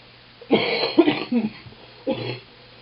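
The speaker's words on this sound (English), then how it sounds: "excuse me while I cough up the other lung." A person coughs several times in a short rough burst, then coughs once more after a pause, close to the microphone.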